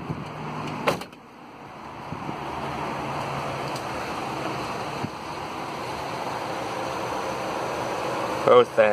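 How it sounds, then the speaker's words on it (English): The electric cooling fans of a Mitsubishi hum in a steady broadband whoosh with the ignition on, loud and close, with a couple of clunks near the start and the end. "whenever the ignition's on, the fan's on, basically"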